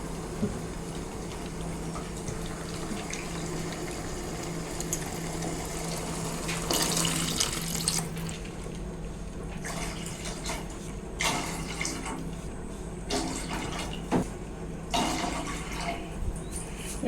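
Running water splashes steadily into a pot, five cups poured for egg biryani, with a louder gush partway through and intermittent surges, close by and without any voices.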